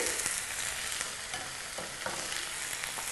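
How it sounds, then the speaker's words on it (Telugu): Cauliflower and potato pieces frying in oil in a pan, stirred steadily, giving a continuous close sizzle with scraping stir strokes throughout. "టమాటా ముక్కలు కూడా వేసుకోవాలి వేసుకొని ఆయిల్లో బాగా కలిసేలాగా కలుపుకోవాలి"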